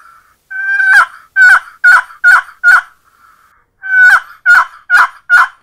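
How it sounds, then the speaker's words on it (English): A turkey box call yelps in two runs of about five raspy, evenly spaced notes, loud and close, separated by a short pause. "First, I'm going to show you yelp."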